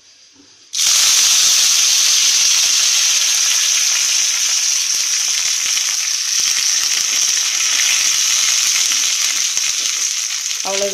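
Fenugreek seeds hit hot tempering oil for a Kanyakumari-style fish curry and burst into a loud, steady sizzle that holds up close for about ten seconds after a quiet start.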